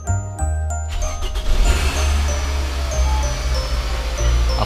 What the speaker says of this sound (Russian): автомобиль ожил